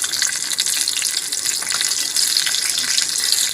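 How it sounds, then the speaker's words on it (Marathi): Cumin seeds and green chillies sizzle in hot ghee for a tempering, a loud, dense, continuous crackling hiss that stays close and steady with no talk over it. "मी तूप गरम करून घेतलं याच्यामध्ये जिरे घालत आहे पाच ते सहा हिरी मिरची घालत आहे"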